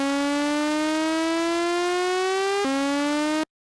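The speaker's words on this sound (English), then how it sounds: "That siren type of effect." A PolyMAX synth oscillator with pitch modulated by an LFO, producing a buzzy siren-type tone that slowly rises, drops sharply once and starts climbing again before stopping abruptly. The tone is loud and steady, with no talking.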